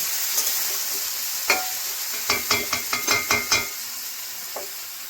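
Chicken kosha cooks on low heat in a pan with a steady background sizzle. A quick run of about seven spoon scrapes stirs the pot near the middle, close by and with no talking.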